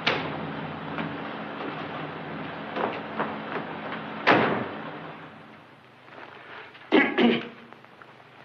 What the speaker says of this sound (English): Don't stand there coughing